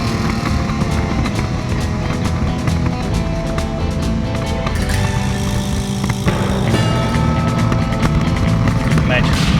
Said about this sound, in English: Imagine, the little bobbling of the exhaust you might hear, typical with the Weavers.